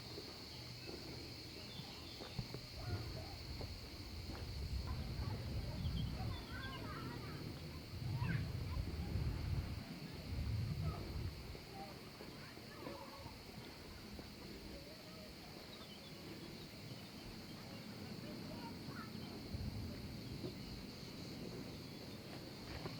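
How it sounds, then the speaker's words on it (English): Outdoor ambience on Capri island with no engine noise: faint bird chirps scattered over a steady bed of insect and cricket hiss, with a slight breeze rumbling softly, all distant and low in level. "All you can hear is sort of birds chirping, crickets, and a slight breeze."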